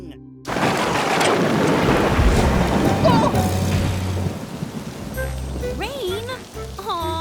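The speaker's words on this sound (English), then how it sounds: "Aw, we can't camp in the rain." Cartoon rain pours steadily with a low rumble of thunder, heard as a dense wash of downpour that fades after a few seconds, followed by a character's voice speaking.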